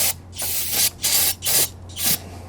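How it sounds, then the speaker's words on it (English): Several bursts of degreaser sprayed over an engine, with valve gear and cam lobes exposed, each hissing spray lasting about half a second with short gaps between them, close and fairly loud over a steady low hum. "spray everything down."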